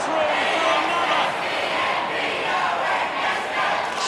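A stadium crowd roars steadily throughout an Australian rules football match in the AFL Evolution 2 video game, a dense, continuous wash of cheering from a large crowd, with commentary faintly present.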